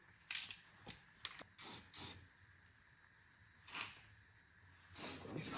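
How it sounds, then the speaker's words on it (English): Under-sealing spray applied to the underside of a Nissan S13 (200SX/240SX) in a garage, heard as several short hissing bursts of varying length separated by quiet pauses, close and fairly loud. "First we will put the under sealing spray."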